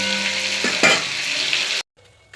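Large pieces of fish frying in a pan sizzle loudly and steadily up close, with a couple of sharp stirring scrapes, before cutting off abruptly to near silence.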